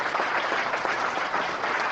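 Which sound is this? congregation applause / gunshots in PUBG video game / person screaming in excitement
congregation applause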